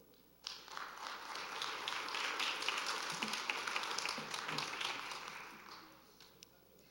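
Audience applause for a high school cheer team at a Valley View school board meeting: a sustained, dense round of clapping that starts suddenly, holds for several seconds, then fades out, with no talking over it.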